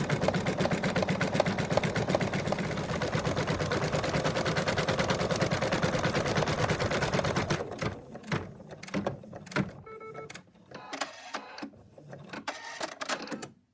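A sewing machine stitches an appliqué piece onto a fabric cat toy's body in a steady, dense run for about seven seconds, then falls into scattered short bursts and clicks as it stops and starts.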